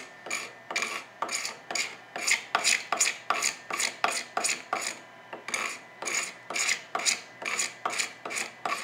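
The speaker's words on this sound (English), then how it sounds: "pretty quickly I'm able to scrape off that extra glue and get down to the wood" Steel scraper shaving excess glue off bent-lamination wood held in a form with a clamp, giving steady rhythmic rasping strokes, roughly two per second, close and clear with no talk.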